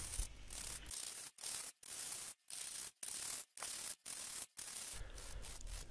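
Homemade bowl-gouge-style woodturning chisel cutting a piece of ash on a lathe, a steady rough scraping rush broken by short regular pauses, close and fairly loud with no talk.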